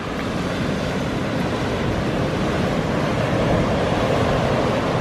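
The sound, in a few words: ocean waves at Laguna Beach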